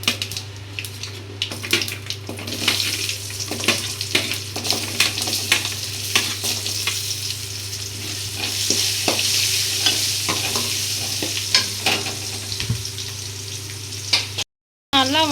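Spices splutter in hot frying oil before onions are tossed in, giving a continuous close sizzle broken by frequent sharp crackles and the clatter of stirring against the pan over a low steady hum; it cuts out briefly near the end.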